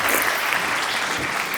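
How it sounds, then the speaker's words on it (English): An audience at a live medical conference session applauds, a dense, steady patter of many hands clapping at moderate distance, brief and even throughout. "Finally, some applause."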